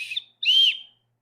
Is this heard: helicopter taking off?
no